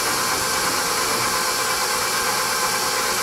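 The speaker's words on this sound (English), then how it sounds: "with the power of the mixer, because if you start high, you will get flour all over the place" An electric mixer blending cookie dough with sifted unbleached flour for chocolate snowball cookies, a loud, steady whirring drone that runs unbroken from start to finish with no talking.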